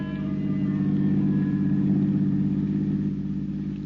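A car engine hums steadily with a low, even drone throughout as the car drives off in an old-time radio detective drama, with no voices.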